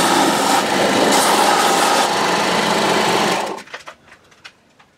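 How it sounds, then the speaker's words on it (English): An electric sander runs at a high, buzzing whine while shaping wooden parts for a large whirligig bird chaser, holding steady for about three seconds before cutting off, followed by a few faint knocks and clicks. "Then we'll just move out the sander here real quick."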